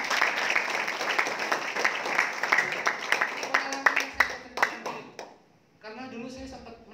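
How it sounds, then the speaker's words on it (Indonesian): Audience at a reseller training event in Surabaya claps and applauds for KK Indonesia, a dense burst of hand claps that thins to scattered claps before fading, with a voice talking afterward. "Tepuk tangan untuk KK Indonesia."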